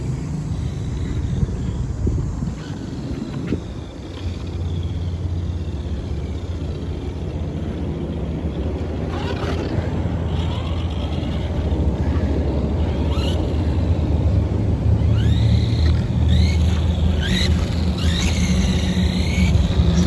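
A 1991 Tamiya Ferrari F40 radio-controlled car drives continuously with a steady electric whine and rolling tire rumble, rising in pitch with brief accelerations and a slight drift near the end.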